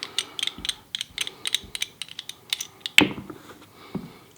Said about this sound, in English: Take your recoil spring out.